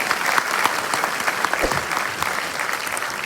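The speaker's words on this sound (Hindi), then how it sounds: "एक बार जोरदार तालियों के साथ स्वागत करते हैं।" A full, loud round of applause from the audience greets a guest at the CSS Day 2023 event in Delhi's Ambedkar International Centre, dense and continuous from start to finish.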